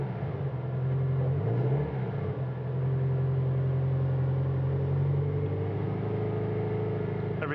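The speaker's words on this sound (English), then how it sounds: "Give it some gas." A car engine idles with a steady low rumble, then is revved once in a quick rise and fall of pitch before settling back to a smooth, close idle; the car is fitted with a homemade digital dash.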